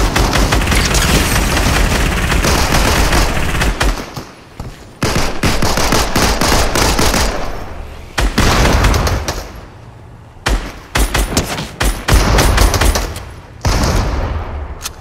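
Heavy gunfire with sniper shots in a Fortnite match among friends, loud sustained volleys and rapid bursts with brief lulls, close and dominant throughout.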